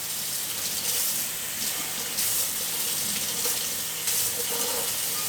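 Water pours steadily from a tap into a container, a continuous hissing gush that shifts slightly in pitch as it fills.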